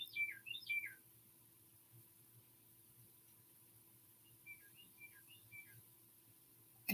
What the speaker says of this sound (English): Did you hear the bird?